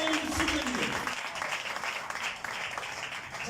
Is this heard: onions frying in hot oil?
no